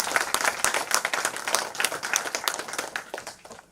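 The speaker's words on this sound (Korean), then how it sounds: "다시 한번 뜨거운 박수 부탁드리겠습니다." An audience at a county governor candidates' debate gives warm applause, dense clapping from many hands that stays loud and even before tapering off slightly toward the end.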